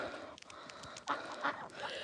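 Ducks calling on a snowy farm where goats, chickens, turkeys and guineas are also kept, a couple of short nasal honking bursts rising over steady outdoor background noise.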